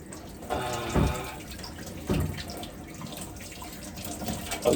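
A tap runs into a sink with a steady wash of water, broken by a few louder splashes and clatters nearby.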